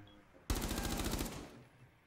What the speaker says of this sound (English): I shot someone that's outside.